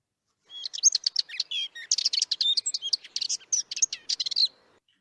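A played recording of a songbird, likely a linnet, gives a rapid, chattering run of twittering chirps and short trills lasting about four seconds against silence, clear and close.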